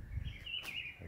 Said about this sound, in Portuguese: vamos tentar gravar a voz do amanhecer, né? Os pássaros cantando